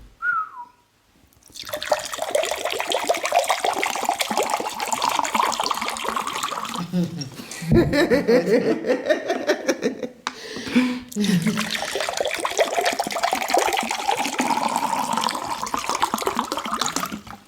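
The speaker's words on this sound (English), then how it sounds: "Let me serve you water." Water pours steadily into a container for several seconds, with a rising gurgling tone as it fills, briefly interrupted by soft clinks and handling noises.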